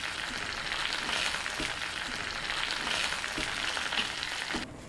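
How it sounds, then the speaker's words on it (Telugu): Ridge gourd fries in a pan with a steady, close hiss of oil that sounds much like rain, broken by a few faint stirring knocks, with no talking. "దీన్ని కాసేపు వేగనిద్దాం."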